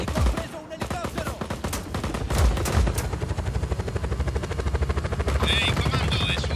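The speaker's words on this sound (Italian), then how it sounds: "Il nemico ha preso un elicottero!" Enemy helicopter in the video game Just Cause 4, its rotor chopping rapidly and steadily in the foreground under bursts of machine-gun fire and explosions, with game voices speaking.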